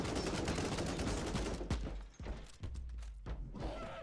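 A heavy gun firing in the Warhammer 40K Inquisitor Martyr video game, a run of deep, bass-heavy booming shots in a dense, loud barrage, followed by a few separate thumping blasts.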